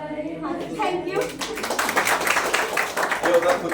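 A group claps hands together in a personality development class, the broad rattling applause starting partway through and continuing steadily after a voice sings and talks at the start.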